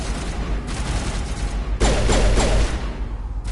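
Gunfire in the sci-fi shooter game Mass Effect: a dense rattle of rapid shots, with a louder, heavier burst of firing and booms midway before fading back to a busy background of combat.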